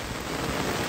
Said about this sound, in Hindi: आज इतनी बारिश कर दी भाई